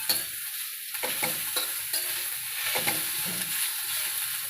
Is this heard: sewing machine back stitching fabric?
no